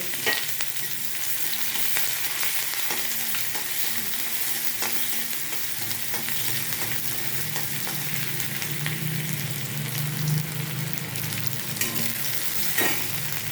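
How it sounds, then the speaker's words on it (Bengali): Chopped garlic and onion sizzle steadily in hot oil with nigella seeds while a spoon stirs them, a loud continuous fry with occasional scraping clicks and no talk. "চপড রসুন আর চপড পেঁয়াজ দিয়ে 10 সেকেন্ড নাড়াচাড়া করতে হবে"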